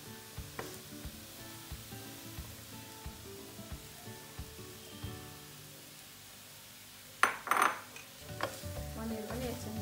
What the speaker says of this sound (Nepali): पनिर पनि एकछिन भुट्नु